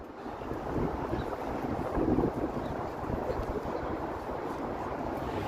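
Strong wind sweeps through a downtown Toronto street lined with tall buildings close to the lake, a continuous broadband roar buffeting the microphone with a slight swell near the middle.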